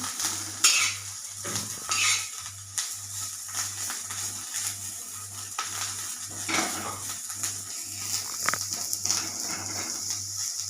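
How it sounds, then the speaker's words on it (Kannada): Bitter gourd fries in a spoonful of oil on a tava, sizzling steadily while a utensil stirs and scrapes the metal in a regular, close rhythm. "ತವೆಯಲ್ಲಿ ಹುರ್ಕೊಂಡಿರೋದು ಅದೇ ತವೆಯಲ್ಲೇ ಮಾಡ್ತಾ ಇರೋದು"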